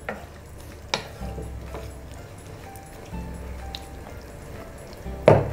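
Dry rajma tossed with capsicum and onion in a pan makes a quiet, soft stirring sound with faint scraping and a few sharp clinks of the spoon against the pan.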